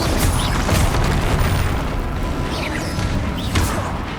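Bombarda spell blast in the Hogwarts Legacy PC game, a dense rumbling boom with crashing debris and mechanical clatter, loud and sustained for several seconds amid battle noise.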